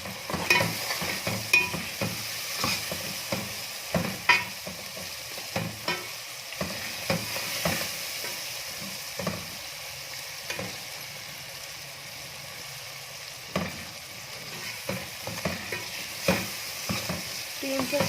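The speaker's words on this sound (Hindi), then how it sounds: "तकरीबन 10 से 15 सेकेंड इसको फ्राई करेंगे अच्छी तरह से, ऐसे ही मसाले को" Masala spices and green chilies frying in hot ghee in a pan, a continuous sizzle broken by repeated scraping and stirring clatter from a spoon, close up with no talking.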